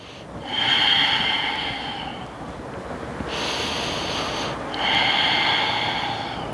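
Deep, audible breaths drawn in and pushed out through the nose during an intermediate yoga flow, close to the microphone in long, hissing waves with pauses between them.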